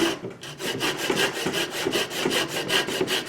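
Hand saw cutting off wooden parts of a Windsor chair, a close, loud, rhythmic back-and-forth rasp of steady strokes, about five per second.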